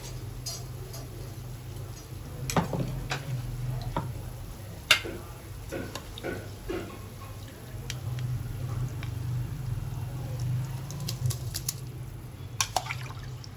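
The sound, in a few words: water boiling in a pot for bagara rice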